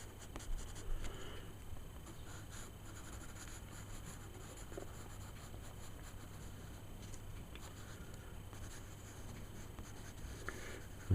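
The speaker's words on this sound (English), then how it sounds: "I'm using a 6B pencil." A soft 6B pencil scratches and shades across paper close up, a quiet continuous rasp with small strokes and pauses while a creature drawing is darkened.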